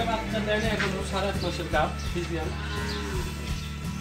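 Repeated low, drawn-out moos of a pregnant Friesian cow rumble through the clip, loud and close, with a voice talking over them much of the time.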